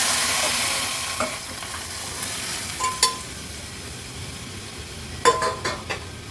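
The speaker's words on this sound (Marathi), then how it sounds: "हाय फ्लेमवर आता ह्या वरणाला आपण फोडणी देऊया" Dal is tempered in a pan over a high flame, giving a steady close sizzle and hiss with a few sharp clinks of a spoon against the pot, and no talking.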